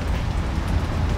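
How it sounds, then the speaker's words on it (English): Steady rain falling at a carp fishing lake in South Africa, a dense continuous hiss with low rumble, fairly loud and unbroken. "today it's drab and it's raining"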